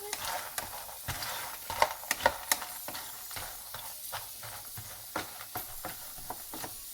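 Pasta tibs frying in a pan and stirred constantly, with repeated close spoon scrapes and taps over a low sizzle.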